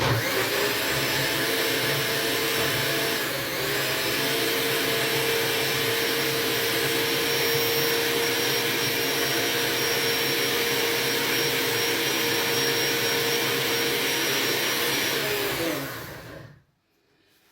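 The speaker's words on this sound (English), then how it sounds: "So we're going to go for blending" A blender whirring a cucumber smoothie, a loud steady motor drone that runs unbroken for about sixteen seconds before cutting off abruptly.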